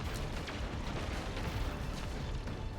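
Explosions from the video game Destiny 2 during the Lightfall story, heard as a dense, continuous rumbling barrage of booms and blasts, loud and sustained with no talking.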